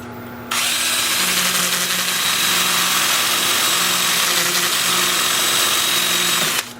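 A wood turning on a lathe spinning in reverse at 350 RPM, sanded with 80 grit sandpaper: a loud steady motor hum with a constant abrasive hiss, starting abruptly and cutting off just before the end.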